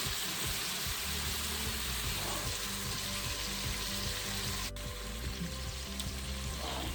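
Meatballs frying in a pan, a dense continuous sizzle of hot oil, close and steady throughout with no voices.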